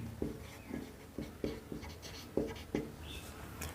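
Someone writes on a board during a Class 10 maths lesson on real numbers: a quiet run of short, separate strokes and taps, about seven or eight in a few seconds, with no speech.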